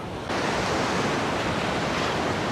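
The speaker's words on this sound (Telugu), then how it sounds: "బాగా స్పీడ్గా వస్తున్నట్టుంది అలలు." Ocean waves surge continuously onto a shore in a loud, steady broadband wash. The roar swells in suddenly at the start, with no voices.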